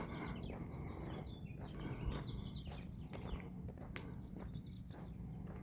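Faint birds chirping in short scattered calls against quiet outdoor ambience, with soft rustles and occasional light footsteps.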